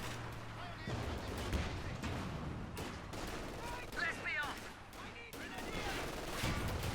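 Gunfire and explosions in Company of Heroes 2 on the Port of Hamburg map, with repeated shots and blasts rolling across a busy battlefield mix, mostly mid-distance and continuous.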